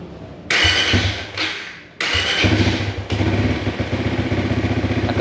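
A motorcycle engine on a stock Aracer ECU fuel map cranks and fires, surging loudly in bursts, dipping, then catching again into a close, clattering, uneven idle.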